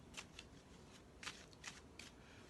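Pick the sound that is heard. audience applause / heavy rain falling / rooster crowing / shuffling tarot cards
shuffling tarot cards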